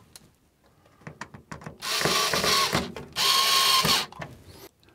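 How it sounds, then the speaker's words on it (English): A hand screwdriver turning screws into a motorhome rooflight frame: ratcheting clicks and grinding rubs in short bursts, close and fairly loud, with two longer sustained turns and no talk. "I'll do the final tightening with a hand screwdriver."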